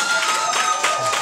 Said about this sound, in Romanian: Aplauze pentru Drăcea nou